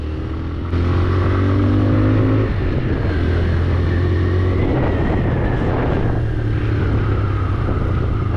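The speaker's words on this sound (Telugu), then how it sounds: "థ్రాటిల్ ఓపెన్ చేసి బాగా నడిపిస్తాను." A 125cc motorcycle engine revs and accelerates up close, its pitch climbing steadily, then dropping and rising again over a continuous roar.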